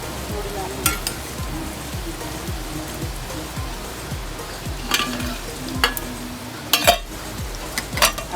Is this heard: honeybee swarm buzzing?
no